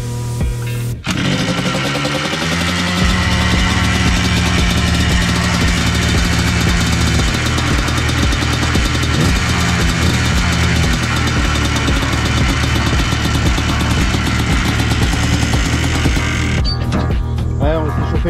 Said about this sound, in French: On va vérifier s'il démarre quand même